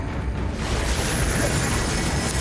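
A Confringo blasting spell from the Hogwarts Legacy video game erupts in a loud, sustained explosive roar that rumbles through the whole stretch without pause, dense and near.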